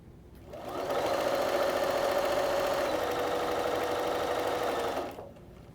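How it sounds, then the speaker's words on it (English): A sewing machine stitches two-inch fabric strips together along a quarter-inch seam for a rail fence quilt block, running in one steady, close whir for about four seconds before stopping. "Take these 2-inch strips and sew them together along the long edge using a 1/4-inch seam"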